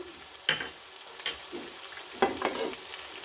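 Ground cumin and coriander go into a pan of kofta curry base, giving a faint, quiet sizzle with a few scattered spoon taps and scrapes; no one speaks.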